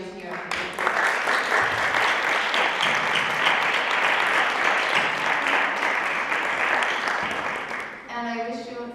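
Applause for debate participants at a leadership debate final fills the room, a dense, even wash of clapping from a sizable audience that swells in quickly and holds steady before fading, with a voice returning at the very end.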